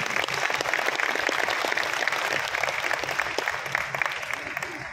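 Steady audience applause at a Rotary district conference, dense and continuous, with many hands clapping at a fairly close, even level for the whole stretch.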